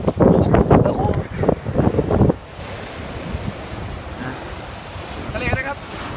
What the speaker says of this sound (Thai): ทะเลนะครับ